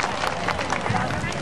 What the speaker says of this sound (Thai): ขอเสียงปรบมือต้อนรับคุณสนธิลิ้มทองคุณรอบที่2ครับ